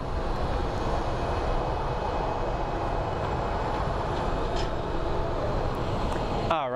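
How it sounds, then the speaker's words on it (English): A jet airliner approaches Phoenix Sky Harbor airport with a steady, broad engine roar that holds loud and constant throughout, with no talk over it. "what is this plane that is approaching?"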